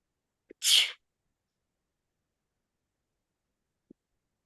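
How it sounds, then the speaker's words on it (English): A single sharp sneeze bursts out once, close and loud, followed by near silence. "I'm about to sneeze."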